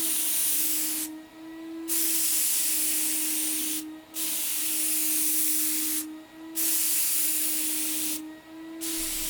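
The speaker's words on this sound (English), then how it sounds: "I'm spraying the first coat with a cap spray 115 and a number 4 nozzle and needle set." A Capspray 115 sprayer with a number 4 nozzle and needle set lays water-based enamel onto laminate nightstands. Four loud, steady hissing bursts each last about two seconds, separated by short quiet pauses.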